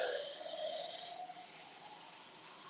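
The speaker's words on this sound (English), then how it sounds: "so it's just gonna get tap water" Tap water pours from a kitchen faucet into a cup for pancake batter, a continuous bright splashing stream whose pitch shifts slightly as the vessel fills, with no talking.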